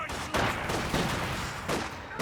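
Gunfire rattles in a Company of Heroes 2 battle, with several loud bursts of shots in quick succession mixed with battlefield noise.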